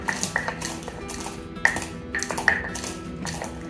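Spices for a Christmas tea are crushed by hand, giving sharp knocking strikes and scraping clinks in an uneven rhythm, close and fairly loud with no talking.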